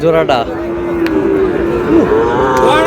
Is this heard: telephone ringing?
no